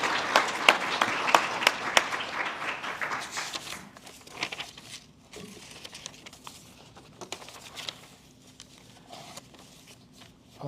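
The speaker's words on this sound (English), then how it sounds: "So give her a round of applause." Audience at a scholarship award ceremony applauds a recipient, with a full burst of clapping that thins out after four seconds into scattered claps and quiet room noise.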